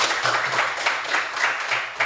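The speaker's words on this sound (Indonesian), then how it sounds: "Baik sekali, tepuk tangan untuk Eva." A classroom group claps together in a steady rhythm for a couple of seconds, fairly close.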